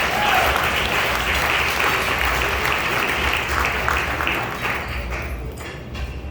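Sustained, dense applause from a gala audience for an announcement about an officer being jailed, loud and close, easing slightly toward the end.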